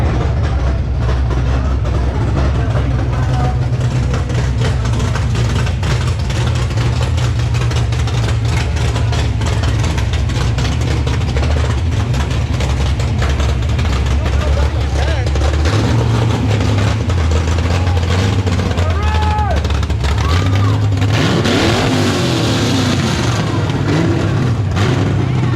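A 2019 Ford Mustang with a Coyote V8 rumbling steadily at idle, then revving up in a few rising pulls toward the end, loud and close with no talking.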